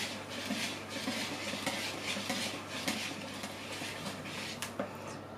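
A spoon gently stirring powdered milk into cheesecake batter in a bowl, soft continuous scraping and light clinks of utensil against dish, close and quiet, with no talk.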